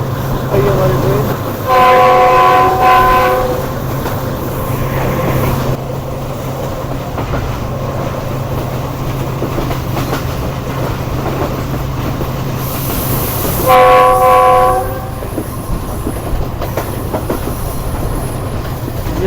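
A packed Subak Raftar passenger railcar arrives amid steady rumbling and wheel clatter, with two loud horn blasts sounding a few seconds apart, near and dominant.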